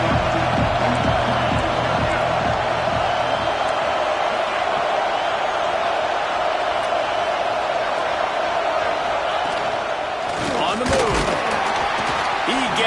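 A football stadium crowd roars in a broad, steady wash of noise, with a commentator talking over it and a brief swell of cheering toward the end.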